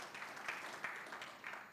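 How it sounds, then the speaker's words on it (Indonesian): A congregation clapping for Jesus during a Sunday church service, a faint, short burst of scattered applause with a few louder claps rising and falling. "mari tepuk tangan lagi bagi Tuhan Yesus"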